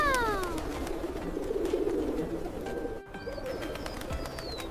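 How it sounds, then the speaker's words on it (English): Pigeons in a snowy town square in Russia coo and flutter nearby, soft repeated cooing over a busy wash of wingbeats and outdoor ambience. "Whoa! The birds are flying everywhere."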